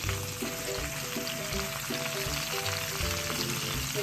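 Lime pickle frying with rock salt in a pan on a Kerala stovetop, a steady close sizzle with scraping stirring strokes running throughout, no voices.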